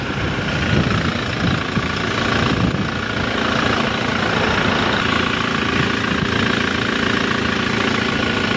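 A 2018 Toyota Fortuner V 4x4 diesel SUV with about 80,000 km idles in a steady, close, fairly loud rumble with an even low throb throughout and no talking.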